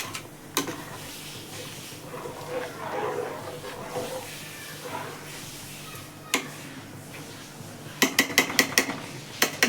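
Pulav rice and masala being stirred in a metal pot, with soft scraping under faint talk and sharp clinks of a spoon against the pot, clustering into a quick run of taps near the end.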